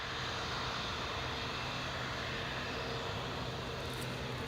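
An RAF Phenom 100 jet on approach to Newcastle International Airport, a steady distant engine roar that stays constant in level, heard alone.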